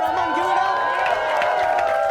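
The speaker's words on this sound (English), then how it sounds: "Round of applause for Aman." An audience bursts into applause and cheering with whoops and shouts, a loud sustained crowd roar filling the space, voices mixed into the din.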